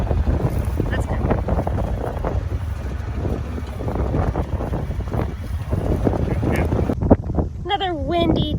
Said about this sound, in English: Another windy day today